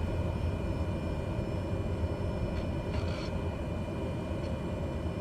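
A Cessna 208B Grand Caravan in Microsoft Flight Simulator 2020 hums with a steady, droning turboprop note while taxiing, even and moderately loud for the whole stretch, with no voices.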